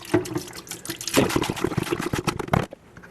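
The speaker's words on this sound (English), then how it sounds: "So it's going to open up the bottle here" Descaling solution is poured from a bottle into the water reservoir of a Keurig 2.0 coffee maker, a steady splashing, gurgling liquid stream that grows fuller midway and stops abruptly near the end, close and fairly loud.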